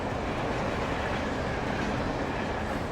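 A steady, loud rumble of a moving train in Alan Wake Remastered, a dense continuous roar filling the low and mid range with no voices over it.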